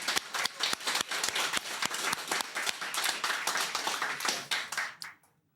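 An audience applauds the organizers at a classic Tetris tournament finals in Montreal, steady dense clapping with sharp individual claps throughout that fades out at the end.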